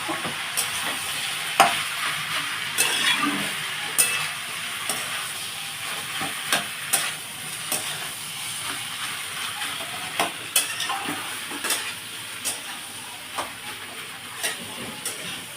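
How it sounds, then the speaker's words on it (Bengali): Boiled potatoes sizzle and fry in a pan, with steady hiss and sharp scraping stir strokes at irregular intervals, close and fairly loud with no talking. "আমি এবার এই আলু সেদ্ধটা দিয়ে দিচ্ছি।"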